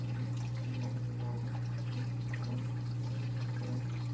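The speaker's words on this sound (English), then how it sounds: "So now it's drawing water from my reservoir and just pumping it into my tank. So it'll keep filling up." AutoAqua top-off pump filling an aquarium tank with water from a reservoir, giving a steady low pump hum under a faint continuous trickle and splash, unchanging throughout.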